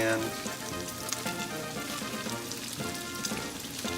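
Juniper berries browning in a hot pan for sauerkraut give a steady, close sizzle and crackle that runs without pause.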